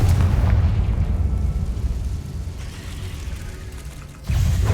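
Booming blasts from the Confringo fire spell in the video game Hogwarts Legacy: a loud, deep explosion opens, a lower rumbling stretch follows, and another heavy burst hits near the end.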